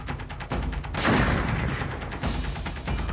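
An explosion set off inside a room in war footage lands as a sudden loud burst with a rumbling tail, followed by further sharp bangs, alone and no speech.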